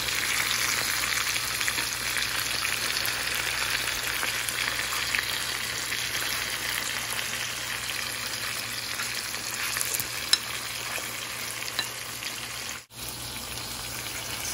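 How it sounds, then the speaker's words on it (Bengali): Boal catfish frying in a small pan, a continuous loud crackling sizzle with fine popping spatters, steady throughout and close by, with one brief dropout near the end. "মাছগুলো সব উল্টে দিলাম, ভাজা হতে থাকুক"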